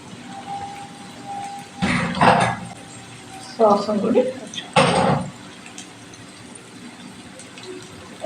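Chicken fry with onion, curry leaves and crushed chili stirred in a pan, three short bursts of spatula scraping and clattering against metal separated by quieter stretches, with a voice talking between them.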